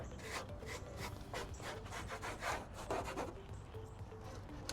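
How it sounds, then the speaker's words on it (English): A squeegee pushes XPEL protective film across a Cybertruck door, giving a series of quiet, close rubbing strokes in an even rhythm over a steady background hiss. "Find your squeegee, bring this down,"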